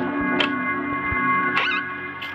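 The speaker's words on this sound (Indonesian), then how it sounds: "Ada kucing." A cat meows in a video game, three short mewing calls spaced apart over a steady droning game soundtrack.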